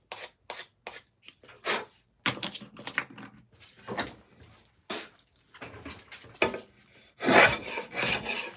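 A tool edge is stropped on the back of a wooden case, giving a series of short, dry rasping strokes that land close to the microphone in an uneven rhythm with brief pauses between them.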